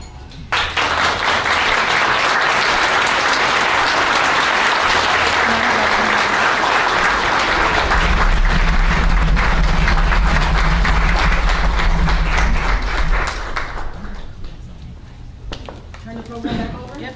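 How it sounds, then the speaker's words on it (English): A luncheon audience gives a committee a standing round of applause, dense sustained clapping filling the room at full strength for about thirteen seconds, with crowd murmur and some low rumble underneath before it thins out at the end. "I want you to stand and give this committee a round of applause"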